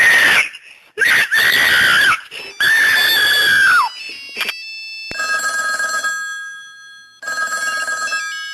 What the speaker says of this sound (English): Please would you pick up the telephone? Please pick up your telephone.